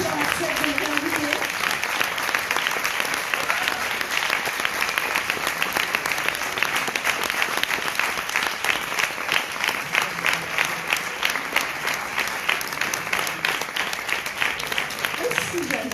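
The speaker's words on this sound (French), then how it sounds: "J'aimerais qu'on applaudisse mon ex au premier rang" A comedy-show audience applauds a performer's ex seated in the front row, with dense, steady clapping across the whole stretch and some voices and cheers mixed in beneath it.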